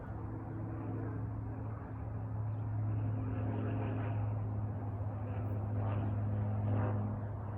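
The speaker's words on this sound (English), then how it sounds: "The airplanes fly overhead where they do." Airplanes flying overhead, a steady low droning engine hum that swells slightly and holds, continuous and moderately loud throughout, with no talk.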